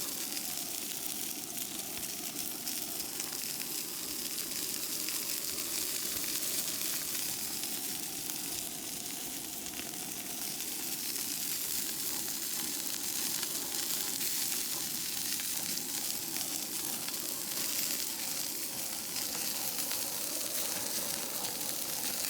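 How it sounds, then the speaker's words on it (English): A ribeye steak sears in a hot cast iron pan, giving off a long, even sizzle with dense crackling that holds steady and fairly faint throughout. "When you sear the first side, just use the high heat of the cast iron"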